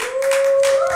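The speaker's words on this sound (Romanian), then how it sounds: "Ok, nu mă așteptam la aplauze." Short burst of applause from a studio audience at a talk show, a dense patter of clapping hands at steady loudness for about a second.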